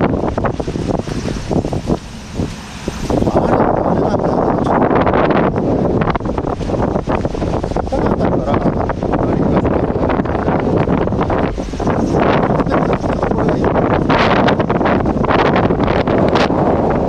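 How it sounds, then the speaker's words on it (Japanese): Strong wind gusts roar across a Lake Biwa shoreline as Typhoon No. 9 passes in 2021, a loud, continuous buffeting rush that hits the microphone throughout, briefly easing near the start before surging again. "すごい風吹いてる。"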